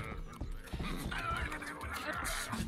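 A horse in a medieval open-world video game gives a loud whinny, heard over a busy game soundscape of hoof clatter and background noise.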